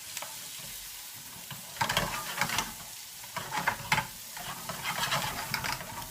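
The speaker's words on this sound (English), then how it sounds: "So into that mix now we're going to throw our mushrooms." Mushrooms and onions for a pasta carbonara sizzle in a pan, a steady close hiss swelling into bursts of crackle and scraping as they are stirred about.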